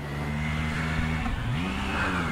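Kawasaki Ninja ZX10 motorcycle with a straight-through exhaust, engine droning and rising in pitch as it accelerates, a close, steady mechanical roar with a brief shift midway before climbing again.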